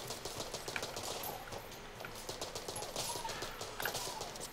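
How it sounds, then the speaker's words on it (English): Rapid rattling Tommy gun bursts in the roguelike shooter Enter the Gungeon, fairly faint and steady, mixed with game sound effects. "Still a fan of the Tommy gun."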